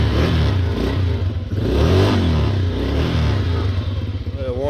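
A Polaris Sportsman 90cc ATV engine runs steadily after a carburetor rebuild, a close, loud, continuous putter with slight shifts in pitch and no gaps throughout.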